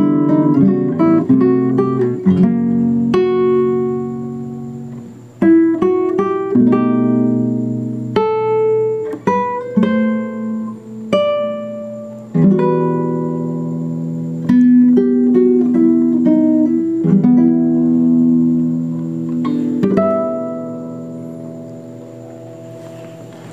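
Acoustic guitar plays the ending passage of a Filipino song, a melody of plucked notes over strummed and arpeggiated chords, close and clear, with no talking.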